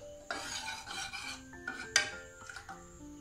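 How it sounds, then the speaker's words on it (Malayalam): A spoon stirs cooked lentils in a pot, giving uneven scraping and rubbing strokes with small clinks against the metal, close by and moderately quiet, no talking. "പരിപ്പൊക്കെ വെന്തത് നന്നായി നമുക്കൊന്ന് ഇളക്കി നോക്കാം."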